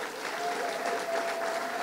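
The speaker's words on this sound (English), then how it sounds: "Can we put our hands together for the piano player this morning?" Congregation applauding the piano player during a church service, a steady wash of many hands clapping at moderate volume throughout the short stretch, with a faint sustained tone underneath.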